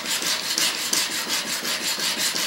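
A woodworking chisel rubbed back and forth on an extra coarse sharpening stone, a close, steady rhythmic rasping scrape repeating about every quarter second with no talk.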